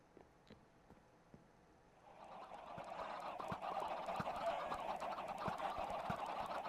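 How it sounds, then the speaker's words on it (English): Minecraft chickens packed by the hundreds into a chicken XP farm, a faint, quiet start giving way to a dense, continuous chorus of overlapping clucks that swells and holds steady. "you can see we've got about 735 chickens in there now"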